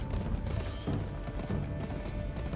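Hooves of a horse in the video game GUN pound in a brisk, steady rhythm, loud and near, with a continuous rumbling ambience beneath.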